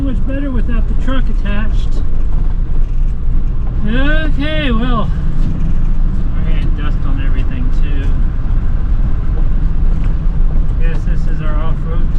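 An off-road vehicle driving over rough desert terrain in the Valley of the Gods, engine rumbling and wind noise buffeting the microphone steadily, with a person talking briefly over it.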